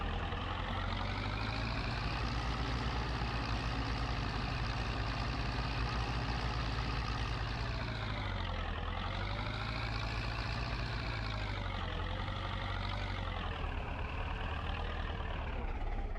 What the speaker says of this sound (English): Probably the noisiest tractor we have.